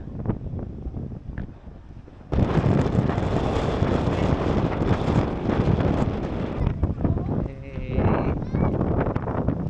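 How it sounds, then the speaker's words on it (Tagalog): Strong wind at a coastal rock formation in Ilocos buffets the microphone in a loud, continuous roar that surges sharply a couple of seconds in and stays heavy, with a voice briefly heard under it. "Sobrang lakas ng hangin."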